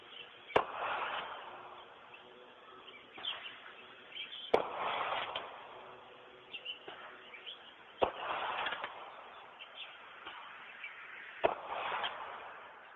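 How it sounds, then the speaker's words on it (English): Gunshots caught in a neighbour's recording, four sharp distant cracks spaced a few seconds apart over a faint, hissy background with no talk. "asking him about those gunshots neighbors say they heard"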